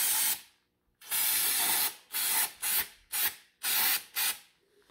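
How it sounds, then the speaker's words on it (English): Several hissing bursts from an aerosol can of brake cleaner sprayed to flush out cuttings in a Sea-Doo Spark engine, one long blast followed by shorter quick sprays with brief pauses between them, close by. "use some brake clean and try to spray out all of"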